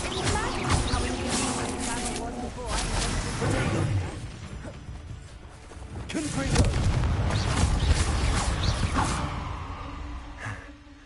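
Bombarda spell explosions in Hogwarts Legacy, booming blasts and whooshing impacts in two dense bursts amid game combat noise, with a player talking over them.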